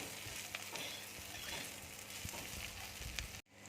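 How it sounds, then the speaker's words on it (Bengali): Whole garam masala and melon seeds fry together in oil, giving a quiet, steady sizzle with faint crackles, close but low in level, briefly cutting out just before the end. "গোটা গরম মশলা দিয়ে দিচ্ছি, চাল মগজ দিয়ে দিচ্ছি, একসাথে সব ভেজে নেব"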